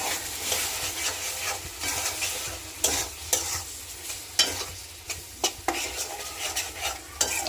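Shrimp and spinach sautéed in a pan, stirred steadily with a utensil that scrapes and clinks against the metal over a constant close sizzle, with no voices.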